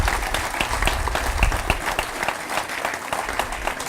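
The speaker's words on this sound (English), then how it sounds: "the Vice Chancellor and the team needs a big hand of applause for investing" At the TEK TV commissioning ceremony, an audience gives a lively round of applause, a close, dense clatter of hands with sharp individual claps standing out, holding steady throughout.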